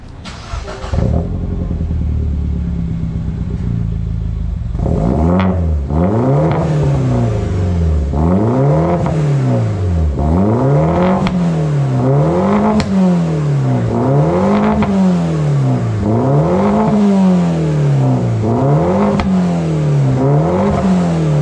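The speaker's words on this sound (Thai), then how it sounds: "เป็นหม้อสูดเสียงซุปเปอร์คาร์นะฮะเดี๋ยวจะไปฟังกันว่าซุปเปอร์คาร์ขนาดไหน" A MINI Countryman fitted with a Euro Arts stainless steel 304 exhaust idles, then revs repeatedly in loud, rhythmic blips that rise and fall steadily, close and alone with no talking.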